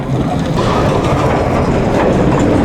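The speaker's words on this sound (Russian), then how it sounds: "Вот он, красавец электровоз. Вот вагоны, а вот экскаватор." An electric locomotive hauling rail wagons on a magnesite plant's industrial railway, a loud, continuous rumble and rattle of rolling stock heard close up without a break.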